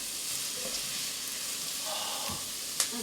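Garlic and thyme sizzling in oil in a pan for potato soup, a steady, close frying hiss with occasional light pops and a brief stirring tap.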